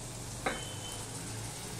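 Ground coriander, cumin and chilli powder frying in a pan with a little water, giving a continuous close sizzle with one brief clink of a utensil partway through.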